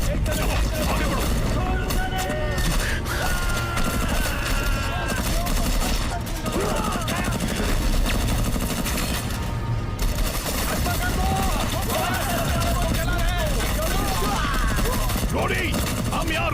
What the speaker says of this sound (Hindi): वहां से फायरिंग करो। जल्दी करो।